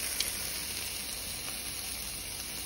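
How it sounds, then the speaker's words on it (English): Breakfast burrito filling fries in a pan with a steady, close sizzle and hiss that holds for a few seconds. "I fry this up for a few seconds"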